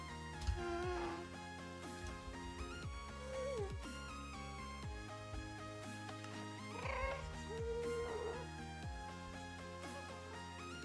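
A cat meows a few times, short wavering cries rising and falling in pitch, mixed into loud, steady background music.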